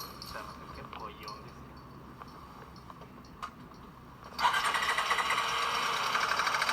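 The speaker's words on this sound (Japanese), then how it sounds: "この音カラカラ音。" A cheap non-running motorcycle from an online auction finally starts, its engine making a harsh abnormal rattle. Faint murmurs come first, then the engine suddenly clatters in loud and close with a steady, rapid rattling that continues to the end.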